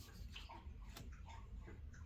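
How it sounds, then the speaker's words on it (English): A dog laps water from a bowl in a quiet room, a soft irregular series of wet slurps and splashes, close but faint, with no talking. "it's Milo who's drinking his water here"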